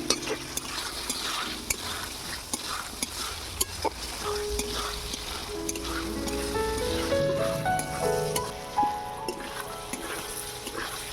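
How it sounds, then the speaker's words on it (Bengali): Potatoes stir-fried in a pan sizzle steadily while a spatula scrapes and knocks against the metal in a regular rhythm, close up, with a brief tonal whine of the stove or vessel partway through. "আলুটাকে এবারে ভালো করে কষিয়ে নেবো"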